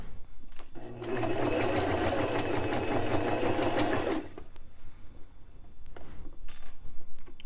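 A sewing machine stitches a gusset into a man's dress shirt, a fast even run of stitches lasting about three seconds, close and clear, with quiet handling noises before and after.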